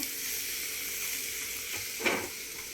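Garam masala being mixed into a curry in a pan, a steady close sizzle with a brief louder burst of stirring and hiss near the end, no voices.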